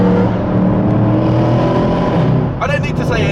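Mercedes C63 AMG Black Series V8 driving through a road tunnel, a loud, boomy engine drone close by from inside the car that rises into a hard rev near the end, with a voice talking over it.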